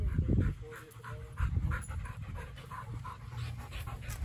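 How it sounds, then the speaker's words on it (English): Dogs panting at a training facility, rapid rhythmic breaths close by, with soft background noise and a faint voice. "How many dogs do you have in the facility now?"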